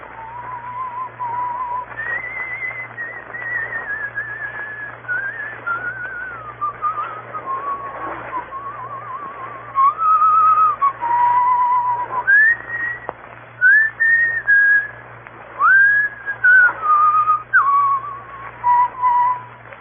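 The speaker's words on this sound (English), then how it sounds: "He will pass the word Blackstone and whistle Annie Laurie." A lone person whistles the tune Annie Laurie, a clear, sustained melody carried phrase by phrase at close range with no other sound around it.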